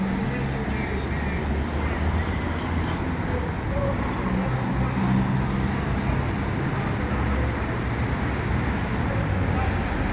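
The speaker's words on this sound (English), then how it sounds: "There are cars coming from every direction." Steady street traffic rumbles through Bucharest, with cars passing from several directions in a continuous dense wash of road noise and engine hum, moderately loud and unbroken.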